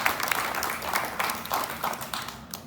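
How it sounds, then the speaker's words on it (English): An audience at a USA wrestling athlete panel introduction gives a round of applause for five athletes, a dense, steady wash of clapping at moderate volume throughout. "let's give our 5 athletes a round of applause before we get started"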